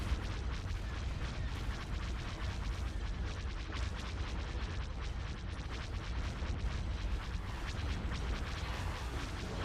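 Spaceship weapon fire and explosions in a Star Wars video game form a dense, continuous rumbling barrage of blasts and booms, steady and loud without pause for the whole stretch.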